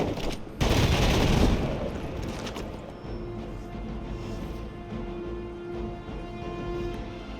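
Dense burst of rapid gunfire and explosions from the video game Marvel's Midnight Suns, loud at first and then tapering into a lingering rumble with faint tonal game effects underneath.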